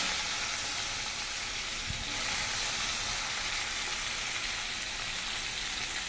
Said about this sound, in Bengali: দিয়ে দিয়েছি জিরে ফোড়ন, দিয়ে দিচ্ছি 2টো পেঁয়াজ